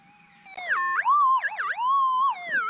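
A Minelab SDC 2300 gold detector gives a loud, warbling electronic signal tone that sweeps up and down in pitch for about two seconds while searching ground holding old nails, lead and a horseshoe.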